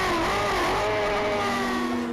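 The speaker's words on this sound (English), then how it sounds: "Revving down there into Park Corner." A 600cc race motorcycle at Cadwell Park circuit howls continuously at high revs through Park Corner, a loud, dense engine whine with shifting pitch and no pauses.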